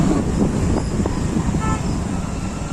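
A traffic jam of vehicles lines the road at Amboli Ghat: a close, rumbling idle of engines with a brief car horn toot partway through, under steady road noise.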